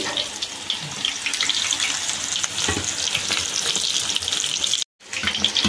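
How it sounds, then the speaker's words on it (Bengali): Cabbage roll fritters coated in gram-flour batter fry in hot oil, giving a steady, close crackling sizzle that runs without pause except for a brief dropout near the end. "এবার এটাকে ছেড়ে দেবো তেলের উপরে"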